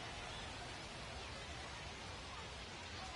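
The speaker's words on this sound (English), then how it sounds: "We're getting the rain." Steady rain hisses across an outdoor ballpark during a minor-league baseball game, a faint, even wash of broadband noise with no distinct drops standing out, continuous for the whole stretch.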